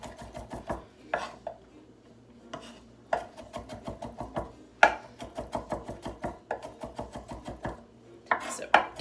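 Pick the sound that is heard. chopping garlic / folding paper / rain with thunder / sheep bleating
chopping garlic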